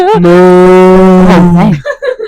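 A person imitates a cow's moo with one long, loud, sustained lowing note that bends at the end, followed by brief voices.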